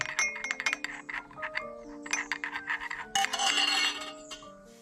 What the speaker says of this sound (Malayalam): അപ്പോൾ നമ്മളിത് എണ്ണയിലേക്ക് ഇട്ട് കൊടുക്കുകയാണ് നന്നായിട്ട് ഒന്ന് ഇളക്കി കൊടുക്കുക